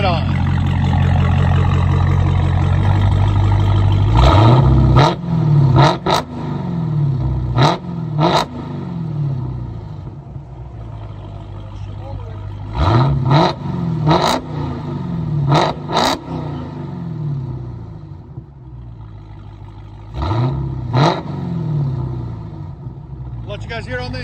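A 2019 Dodge Challenger Hellcat Redeye with a 6.2L supercharged V8 and dual exhaust, revved hard in repeated bursts, each rising to a loud roar and then falling away, with someone talking between the revs.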